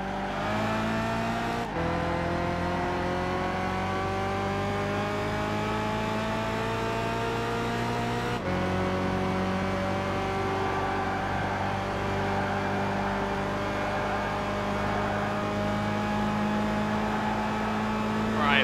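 Race car in Gran Turismo 5 accelerating hard toward 200 mph, a loud continuous engine roar climbing steadily through the gears with two abrupt shift breaks, close and sustained throughout.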